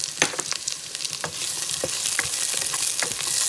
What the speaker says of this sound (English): So I cooked the onions until they are golden brown. Now I'm going to add my carrots.